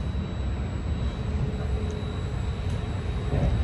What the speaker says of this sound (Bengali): এটা হচ্ছে একটি দোতলা ট্রেন এবং বলা চলে মোটামুটি লাক্সারিয়াস